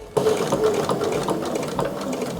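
Sewing machine running steadily while stitching a chevron quilting design on a quilt, a continuous close whirring hum for a couple of seconds with no talking.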